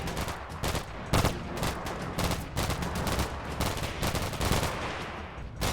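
Dense, sustained gunfire from a Combat Mission video game battle as two soldiers pin down a Syrian fire team: rapid overlapping shots and machine-gun bursts, loud and continuous throughout with sharp spikes, no voices.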